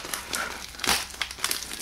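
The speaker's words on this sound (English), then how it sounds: "So I'm gonna tear this thing open now." A package being torn open by hand, with close, fairly loud crinkling and crumpling of wrapping and one sharper ripping burst in the middle.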